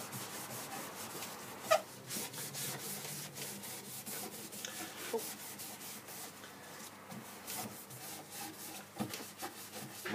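Hand sanding on a power-carved wooden sea piece gives a steady, close scratchy rubbing, continuous across the whole stretch with small uneven strokes and a few brief knocks.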